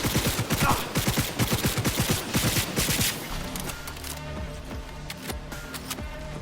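Smart weapon gunfire in Cyberpunk 2077 rattles off as a rapid, loud burst of shots for about three seconds, then gives way to quieter game effects and music.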